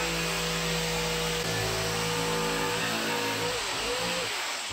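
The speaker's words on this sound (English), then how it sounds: "I actually don't need to drill a hole to start my jigsaw. I just kind of plunge it in like that." Jigsaw plunging into 5/8 MDF to start a circle cut without a pilot hole, a loud, continuous buzzing whine that holds steady and dips in pitch near the end, close up with no talk.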